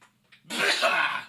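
A single sharp sneeze bursts out after a short breathy intake, loud and close.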